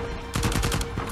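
Rapid gunfire from the Uncharted 4 video game, a quick burst of several loud shots in close succession over a steady background tone.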